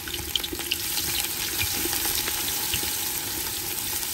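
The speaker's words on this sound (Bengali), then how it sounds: "এবার পেঁয়াজ কুচি দিয়ে দিলাম" Chopped onion fries in hot oil with a continuous dense sizzle and scattered pops, close and moderately loud throughout, without any talking.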